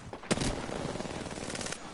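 Video game gunfire, a loud shot followed by a rapid rattle of automatic fire over steady background noise.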